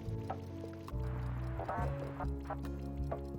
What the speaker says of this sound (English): the little chicken stop talking